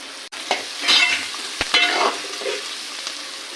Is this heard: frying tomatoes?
yes